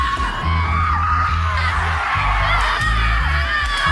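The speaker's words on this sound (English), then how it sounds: "that clip I saw of those women screaming in the forest" Women screaming together in a forest during a rage ritual: loud, sustained overlapping yells and shrieks from a group, wavering and piercing, filling the whole stretch without pause.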